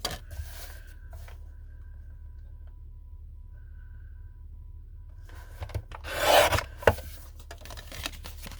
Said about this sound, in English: we're going to trim a little bit more off the side